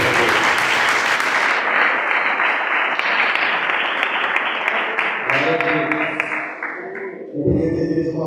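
Church congregation clapping and applauding during a Pentecostal prayer service, dense steady applause filling the room, fading near the end as a voice begins speaking.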